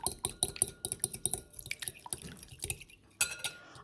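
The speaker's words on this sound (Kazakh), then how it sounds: "Алдымен осыларды араластырып аламын" Flour and a pinch of salt being stirred together in a bowl for hand-cut noodle dough, giving a run of quick clinks and scrapes from a utensil against the bowl, fairly close and moderately loud.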